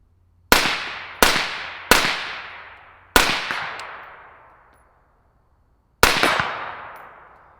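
Five sharp suppressed 5.56 rifle shots ring out at an outdoor range, each with a crack and a decaying echo off the dirt berm. Three come in quick succession, then two more spaced apart, with no talking.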